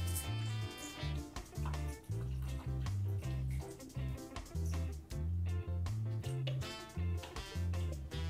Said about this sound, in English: And I'm gonna pour 4 cups of water.